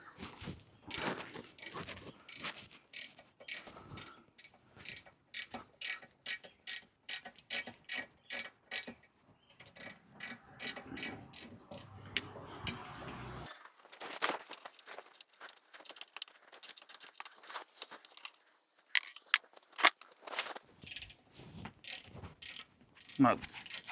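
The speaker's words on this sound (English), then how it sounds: "Break out this old school snap-on ratcheting wrench here." An old Snap-on ratcheting wrench turning bolts on a Speed Aire 1WD72 air compressor, giving long runs of fast, close ratchet clicks in bursts with short pauses and some metallic clatter.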